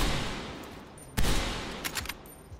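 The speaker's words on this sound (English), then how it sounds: "This is me shooting and switching with gung-ho." Gunfire in Black Ops Cold War while the player shoots a sniper rifle and quickly switches weapons. One sharp loud shot rings out midway over steady game noise, followed by a few lighter clicks and handling sounds.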